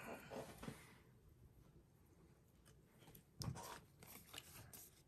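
Scissors trimming paper for a junk journal, very faint snips and rustles close by, a few quick cuts at the start and again after a quiet stretch.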